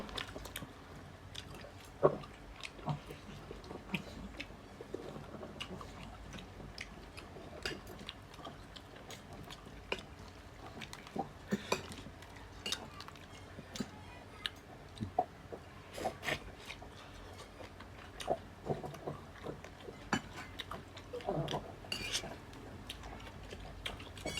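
Someone chewing and eating crispy fried tilapia, with soft irregular bites and mouth clicks, close and quiet, repeating steadily without talk.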